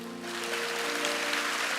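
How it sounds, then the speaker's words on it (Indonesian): A church congregation claps together in a steady, dense wash of applause, with music playing underneath throughout. "kasih tepuk tangan untuk Tuhan"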